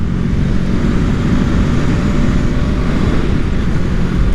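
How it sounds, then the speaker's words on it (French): A Honda CMX 500 Rebel S motorcycle accelerates out of a village, giving a steady, loud engine drone under heavy wind rush, with no talking. "Mais vous voyez que là quand j'accélère en fin de village comme ça,"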